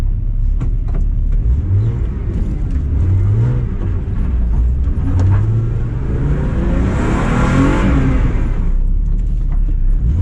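Drift car on a night lap at Driftland, a loud close engine revving and rising repeatedly through gear changes, with tyre whir building to a high-pitched scream near the end.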